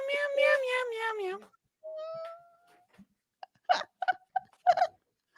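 A cat gives a drawn-out, wavering meow, then a shorter thinner cry, followed by a series of short clicking and chirping sounds; close and fairly loud with quiet gaps between.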